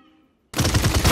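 Automatic weapon fire in the video game Paladins, starting abruptly after a near-silent pause and continuing as a loud, fast, steady burst of rapid shots.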